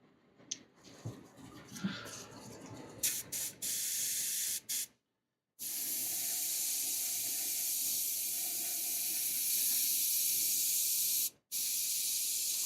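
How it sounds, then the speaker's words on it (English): An airbrush sprays paint in long, steady hissing bursts, close and fairly loud, with brief pauses between sprays. "it comes out from the airbrush pretty good"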